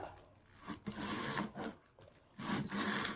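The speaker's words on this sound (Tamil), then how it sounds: "இப்போது முட்டைக்கோஸ் கட் பண்ணிக்கலாம்" A knife slicing cabbage for poriyal in a kitchen, a few separate quiet bursts of crunchy cutting with short pauses between them, close but faint, with no talking.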